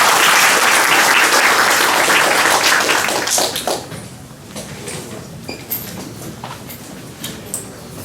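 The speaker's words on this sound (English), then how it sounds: "let's give Kenny Daniel a big applause again" An audience at a Rakuten tech conference session claps loudly and thickly for about three and a half seconds, then it drops off to a few scattered, isolated claps in a quiet room.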